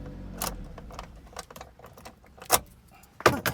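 Car keys for a 2005 Ford Escape jangle and click as one is slid into the ignition, a few sharp metallic rattles close by with short gaps between them.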